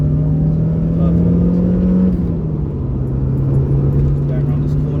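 A 2000 Mk1 Renault Megane Coupe 1.6 16v engine climbs steadily toward the red line, a loud sustained drone that rises in pitch, briefly eases, then holds high under road and cabin noise.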